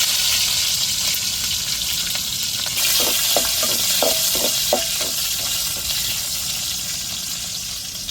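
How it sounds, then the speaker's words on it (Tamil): Onions sizzle in a pan for a Goan anchovy curry. A dense, steady frying hiss comes from close by, with a short run of spoon clinks or stirring taps midway and no talk. "இப்போ வெங்காயம் சேர்த்துக்கிறேன்"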